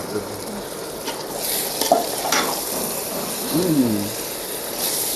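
Chicken pieces are tossed into a frying pan and stirred for biryani. A loud, close sizzle runs throughout, with scraping and clinks from the spoon against the pan.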